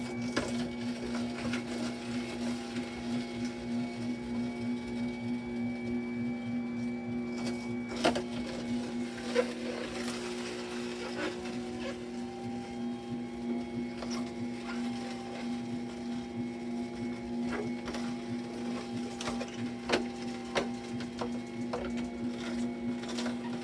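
A masticating juicer grinding celery, a steady motor hum with a repeated thunking as the auger turns, plus occasional louder clunks, close and moderately quiet with no talking.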